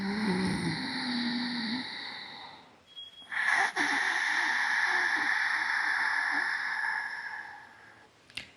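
Ujjayi pranayama breath is drawn through a constricted throat: a long, hissing, ocean-like inhale, then after a brief pause an equally long, rasping exhale, steady and close, with a faint hum at the start.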